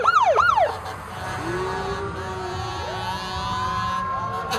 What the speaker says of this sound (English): dozens of emergency vehicles poured onto Woodward with lights flashing and sirens blaring